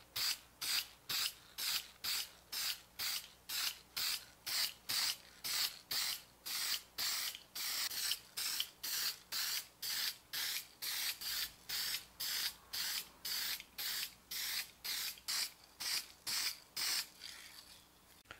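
Aerosol spray paint coated onto Xbox One controller parts in a long series of short, evenly spaced hissing bursts, close and quiet, with no voices.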